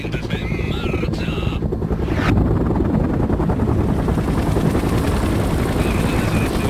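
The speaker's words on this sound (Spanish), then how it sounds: "Helicóptero Medic en marcha." A medic helicopter from the game World in Conflict drones steadily with a constant rotor roar, loud and close, starting with some short electronic beeps.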